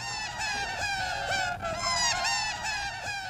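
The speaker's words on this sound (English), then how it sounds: "it sounds like seagulls squawking. It's actually the sound of, I think, Paul laughing and speeding himself up" A sped-up tape loop of laughter from the Beatles' "Tomorrow Never Knows" squawks like seagulls, with a continuous run of high, wavering cries over a low droning bed.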